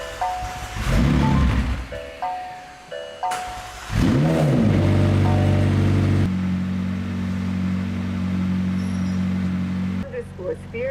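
A McLaren 720S engine starts with a sharp rising whir and catch, then settles into a steady, droning idle close by; softer mechanical clatter and some handling noises come before the start.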